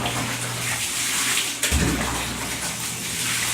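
Tap water runs steadily into a basin during washing, a continuous close gush with a brief splash and shift in the flow partway through, no voices heard.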